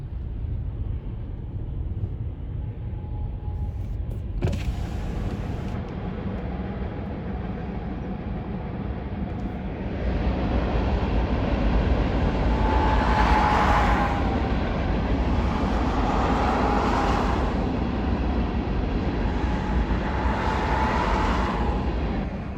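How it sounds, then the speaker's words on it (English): On a cold, windy night a train passes through trees at a distance, a broad low rumble under wind noise that swells after about ten seconds, with faint tonal notes rising and fading. "The train going through those trees right there."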